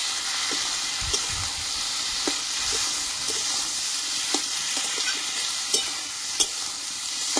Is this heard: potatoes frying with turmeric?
yes